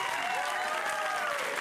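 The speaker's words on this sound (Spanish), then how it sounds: "Un aplauso" Steady applause from a TV studio audience fills the whole moment, dense clapping at constant loudness with a faint crowd murmur underneath.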